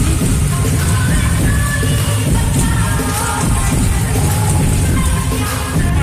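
Heavy rain pours down in a dense, continuous roar of drops, loud and close with no letup.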